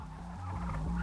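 Turkeys gobble in a steady, overlapping chorus inside a rearing shed at a Norfolk poultry farm where birds live in dirty, crowded conditions, the calls growing slightly louder over a second.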